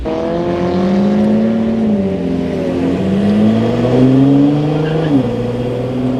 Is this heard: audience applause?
no